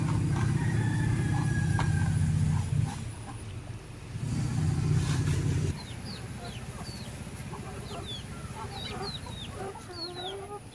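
Chickens in a coop give repeated short clucks and chirpy calls over the last half, nearby but moderate, after a stretch of low rumbling background noise.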